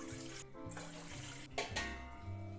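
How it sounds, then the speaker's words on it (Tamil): Water poured from two tumblers into a pot on a lit stove while steaming kavuni rice puttu; a steady, close splashing flow runs throughout with brief breaks, with no talk. "2 டம்ளர் தண்ணி ஊற்றிக்கலாம்."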